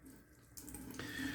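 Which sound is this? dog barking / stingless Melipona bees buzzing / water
water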